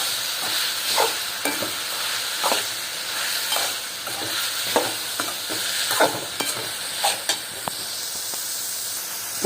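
Dry red chillies and tomatoes with rock salt fry in a pan under a constant hissing sizzle, and a spatula scrapes and stirs at a slow, uneven rhythm up close, with no speech.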